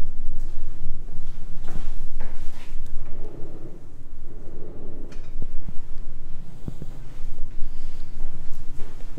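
Coffee-table drawers in a two-bedroom villa at Disney's Beach Club slide open and shut a few times, with soft knocks and rumbles over a steady room hum.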